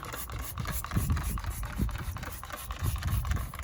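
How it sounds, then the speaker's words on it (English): Alloy wheel cleaner is sprayed onto the wheels of a Renault Wind two-seater in repeated short trigger-pump bursts, close and fairly quiet, each with a brief click and hiss in a steady rhythm. "apply an alloy wheel cleaner, which I'll do now"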